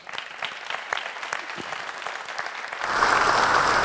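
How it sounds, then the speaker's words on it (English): Audience applause at an energy efficiency conference welcome speech, scattered claps that swell into full, dense clapping from a large crowd. "So I think we should give Sunderberg a round of applause"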